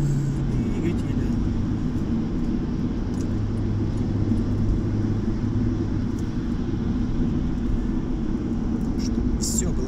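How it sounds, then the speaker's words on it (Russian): Engines running steadily, a loud, continuous low rumble and drone that fills the whole stretch without a break, with a faint steady hiss above it and no talking. "Двигатели."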